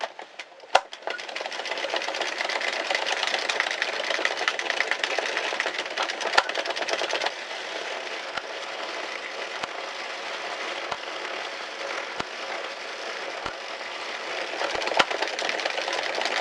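An Addi or Sentro circular knitting machine is cranked round with yarn, making a continuous close whirring, clattering rattle with occasional sharp clicks and no talk.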